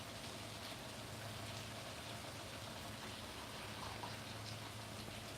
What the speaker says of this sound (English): sounds like the rain's starting to settle down